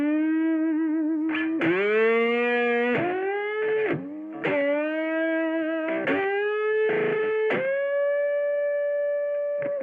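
Distorted electric guitar playing sustained notes, each bent downward and back with dips of the tremolo bar, with chorus-like shimmer and echo, loud and continuous with short gaps between phrases.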